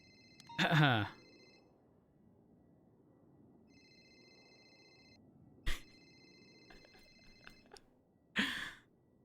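In NoPixel GTA V roleplay, a phone ringtone repeats from spam calls as a pair of thin, steady electronic tones, heard in two stretches, broken up by a sharp sigh, a short click and a breathy burst.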